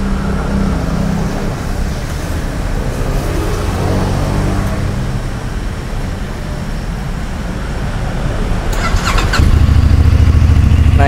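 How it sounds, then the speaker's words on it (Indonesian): A CF Moto MT450 motorcycle engine cranks and fires up, then settles into a loud, steady idle with a deep rumble. "saya bakalan nyalain nih suara motor dari CF Moto"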